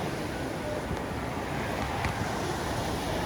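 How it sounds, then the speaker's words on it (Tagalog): Strong ocean waves surging beneath shore rocks on a remote Hawaiian coast, a continuous broad roar and wash with wind buffeting the microphone, steady and fairly close. "Lakas ng alon sa ilalim, oh."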